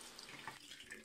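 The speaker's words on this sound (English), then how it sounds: "To drain this water" Water draining and trickling off a Soligor MT-800 Astro 200 mm Newtonian telescope mirror during cleaning, a faint, continuous splashing run like a tap, heard alone.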